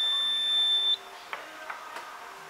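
Safeline drop-through metal detector for process and packaging lines, a loud steady electronic tone cutting off after about a second, followed by a faint hum and a few soft clicks.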